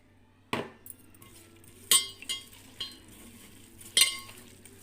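A utensil scrapes and clinks against a pan as fish curry is stirred in oil, several distinct sharp strokes spaced apart over a faint sizzle.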